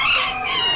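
Hens in a poultry lot at an Amish spring animal auction give a short, loud, close burst of clucking call, heard alone for under a second.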